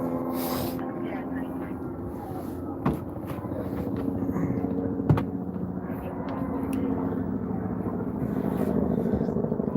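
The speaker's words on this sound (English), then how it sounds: "So now the helicopter's over there." Steady low rotor drone of a police helicopter overhead, constant and fairly distant, with someone talking over it throughout.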